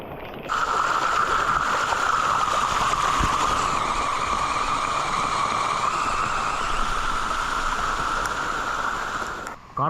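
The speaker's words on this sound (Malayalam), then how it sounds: "വെള്ളക്കെട്ട് വെള്ളച്ചാട്ടം കിടിലല്ലേ നല്ല സൗണ്ട്" A waterfall and rushing floodwater roar in a loud, unbroken broadband wash with a strong steady hiss, close by and constant for nearly ten seconds, fading slightly at the very end.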